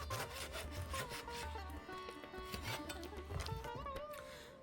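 A knife sawing through chicken on a board for chilli chicken, a soft continuous scraping and rubbing at close range, faint and steady with slight back-and-forth pulses.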